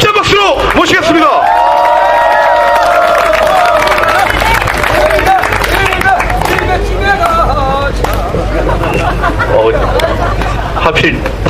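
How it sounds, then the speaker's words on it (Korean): Loud, sustained applause and cheering from a large crowd welcoming a speaker at an outdoor labour solidarity rally in front of the Blue House in Cheongun-dong, Seoul, with steady crowd noise throughout. "힘찬 박수로 모시겠습니다"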